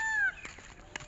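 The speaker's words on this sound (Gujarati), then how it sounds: "મોર પણ બોલી રહ્યો છે, વરસાદ આવવાની સંભાવના છે" A peacock gives a single brief, descending nasal cry at some distance, then faint rustling and quiet follow.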